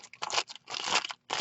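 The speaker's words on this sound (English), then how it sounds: "I'm just going to give this another really big crumple." Wax paper is crumpled hard by hand in a few quick bursts of crisp, crackling crinkles, close up and separated by short pauses.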